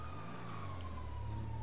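Police car siren in the GTA 5 video game, a steady wailing tone running continuously under a low engine-like rumble, moderately loud and with no talking over it.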